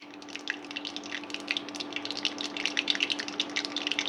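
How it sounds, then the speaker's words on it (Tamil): Mustard seeds and urad dal crackle in hot oil for a Chettinad garlic pickle, a steady stream of small pops and sputters over a low kitchen hum, close and fairly loud with no talking. "இப்போ எண்ணெய் காய்ச்ச உடனே நம்ம கடுகு உளுந்து போட்டுக்கலாம். கடுகு பொரியட்டும்."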